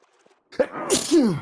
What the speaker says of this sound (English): That was a rapid fire sneeze.